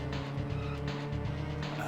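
Car engine revving in the San Francisco Rush racing video game, a steady loud synthetic motor drone with pitch rising and dipping, close and continuous.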